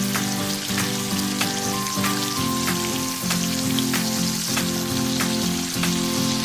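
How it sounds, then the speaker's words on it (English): Bitter gourd stir-fried in a hot wok with oyster sauce, sugar and Shaoxing wine, a loud, steady sizzle and crackle close by with rhythmic scraping of the spatula, and no voices over it. "Stir fry for approximately 30 seconds"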